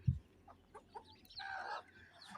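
Domestic village hens cluck near and loud as chicks peep in a brief high chattering burst while they feed inside a small backyard coop.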